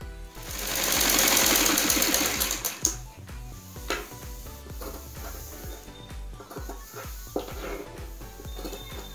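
A sewing machine stitches a dress in quick rattling bursts, a dense mechanical whir that starts loud, then breaks into shorter runs separated by pauses and clicks, close by with no talk.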